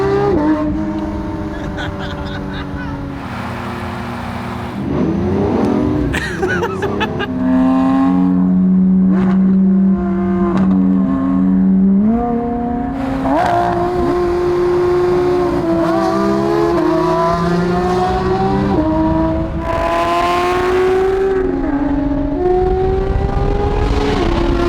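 A Lamborghini SVJ supercar revs loudly and close by, its engine note climbing and falling in repeated bursts with sustained high-pitched howls, while excited voices talk over it.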